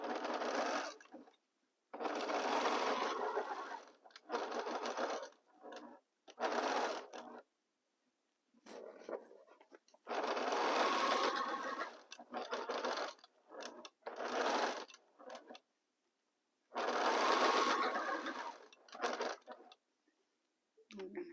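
A sewing machine joins pieces of fabric for a pieced box, running in many short bursts of steady whirring of one to two seconds each, separated by near-silent pauses.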